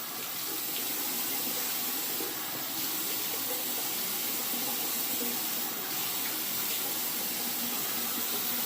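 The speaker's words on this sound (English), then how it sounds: "Let me go ahead and wet my face a little bit." Steady running water from a bathroom tap fills the sink while a man wets his face before shaving with menthol soap, a continuous close hiss with no speech.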